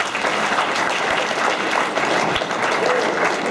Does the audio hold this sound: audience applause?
yes